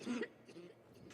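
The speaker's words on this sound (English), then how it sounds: "All right, cough, cough, hack, cough." A brief throat-clearing cough from a gamer playing Dishonored 2, one short rough burst at the start followed by faint trailing vocal noise, quiet overall.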